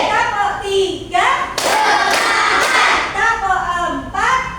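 Children in a classroom clap together in a counted routine, bursts of loud group clapping alternating with a voice calling out the counts, the claps crowding near and dense.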